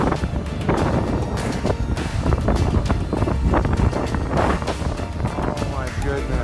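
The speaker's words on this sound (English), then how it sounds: "Listen to that wind." Strong, gusty wind roars and buffets the microphone beside a river during gold prospecting, loud and continuous with rumbling bursts throughout.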